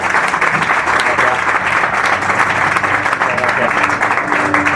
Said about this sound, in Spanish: Démosle un cálido aplauso